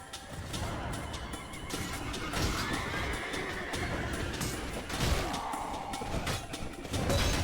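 A horse neighs amid busy Mount and Blade: Warband game sounds, with hooves, clatter and a steady rumble of action throughout.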